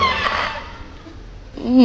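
Audience members at a French stand-up comedy show shout and yell from the crowd in a loud, brief burst that fades, then a fresh rising outburst at the end.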